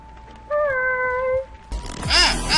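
A sick kitten meows close by, a drawn-out tonal cry lasting about a second, followed by a louder, harsher meow-like outburst that is somewhat noisy and distorted.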